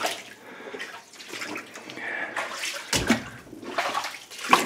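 Water trickles and gurgles as it drains through a 2-inch pipe running beneath a rocky, flooded ditch in a mine, a steady close splashing flow with no voices.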